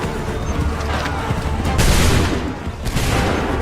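A massed musket volley crashes out in Assassin's Creed III Remastered on PS5, a dense rolling burst of gunfire with sharp overlapping cracks, followed moments later by a second ragged volley, loud and close.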